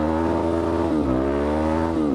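A Suzuki DRZ motorcycle engine, back running after a fault, revs loudly up close in strong rising and falling pulls with no one talking.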